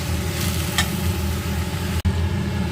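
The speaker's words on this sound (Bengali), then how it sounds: "এখানে দেখো আলুটা এবং চিংড়ি দুটো একসঙ্গে কিন্তু কষানো হচ্ছে" Chopped shrimp and diced potato sautéing together in a pan, a steady broadband sizzle with low rumbling hum throughout and a brief cutoff near the end.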